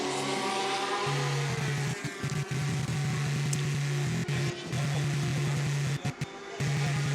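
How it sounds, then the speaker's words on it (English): A Porsche race car pulling into the pits at the 24 Hours of Le Mans, its engine droning with a steady low hum that dips and stutters, loud and close amid dense track and crowd noise. "here's the Porsche of Mark Webber into the pits"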